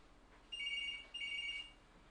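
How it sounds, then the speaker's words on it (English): A telephone rings twice in a radio station studio during a live call-in show, two electronic trilling bursts about half a second each, fairly clear over a quiet background with no talk. "And the phone lines are coming."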